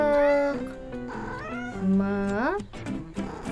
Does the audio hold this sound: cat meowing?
yes